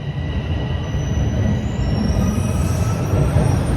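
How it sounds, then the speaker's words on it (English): Two trains pulling into Leslie subway station at once, a loud continuous rumble of rolling cars with high-pitched wheel squeal and rising screeches toward the end, no talking. "we have two trains coming into the station at the same time"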